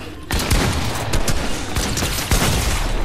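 Rapid bursts of video game gunfire in Fortnite, loud and dense with repeated volleys and booming shots across the whole stretch.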